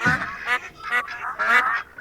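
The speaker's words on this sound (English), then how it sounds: "A family of ducks." Family of ducks in the Roblox Thomas and Friends game quacking in a quick series of four or five nasal calls, close and clear, no talking.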